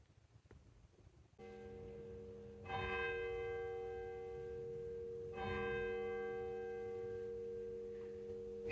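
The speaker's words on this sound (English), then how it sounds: "It's actually 3 o'clock. I missed the first bell." Church bell at St Andrews Church, Chedworth, Gloucestershire, striking the hour in two clear, ringing strokes that sustain and overlap with long humming decay, heard from nearby in a quiet setting.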